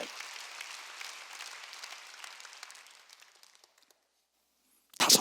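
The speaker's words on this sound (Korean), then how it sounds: "그러면 병에서 이기는 걸 믿으면 박수치라 이기야" A church congregation claps during a Wednesday worship service. The moderate applause thins and fades out over a few seconds, then silence follows before a sudden loud burst of sound right at the end.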